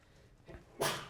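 A single sharp sneeze bursts out in a lecture hall near the end after a quiet stretch, loud and close, with faint breathing before it.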